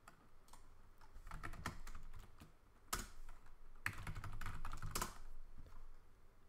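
Fingers type on a computer keyboard in quick irregular bursts of close, crisp key clicks, with a few louder keystrokes standing out and short pauses between runs.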